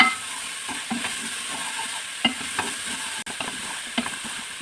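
Onions frying in a pan while being stirred, a steady close sizzle with repeated scraping strokes of the utensil against the pan, with no voices.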